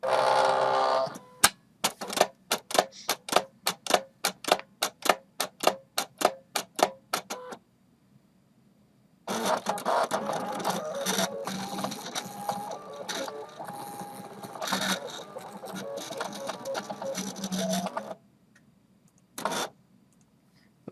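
An embroidery machine stitches an appliqué design, first with rapid evenly spaced mechanical thumps, then after a brief pause with a long loud whirring run, ending with one short burst.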